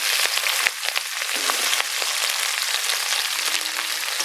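Chopped onion, green chili, ginger and garlic with black cumin fry in hot oil, giving a steady close hiss and crackle with small pops, and no talking.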